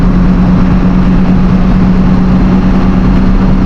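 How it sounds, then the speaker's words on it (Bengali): A Hino AK1J bus engine runs loud and close, a dense, steady low diesel drone with an even throb and no change in pitch, heard alone without voices. "হিনো AK-1J বাসের ইঞ্জিন সাউন্ড হচ্ছে বাসলাভারদের জন্য একটা ভালোবাসার সাউন্ড।"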